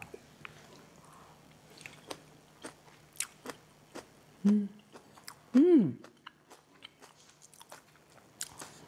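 Someone takes a crunchy bite of wild greens with chili paste, giving repeated crisp crunches and chewing clicks, close and fairly soft, with a few short vocal hums.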